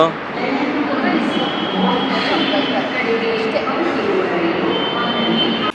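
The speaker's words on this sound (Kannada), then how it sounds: "ಇವಾಗ ಟ್ರೈನ್ ಬರುತ್ತೆ ನೋಡು." A metro train arrives at a station with a loud, steady roaring rush of wheels and motors filling the space for several seconds before cutting off abruptly.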